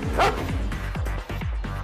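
A police dog riding in the back of a BMW patrol car barks several times in quick succession, with sharp, close barks in a rough rhythm inside the vehicle.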